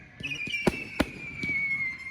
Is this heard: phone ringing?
no